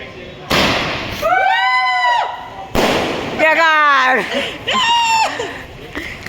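Firecracker shots bursting outdoors in two sharp bangs, each followed by crackling and shouting voices reacting loudly nearby.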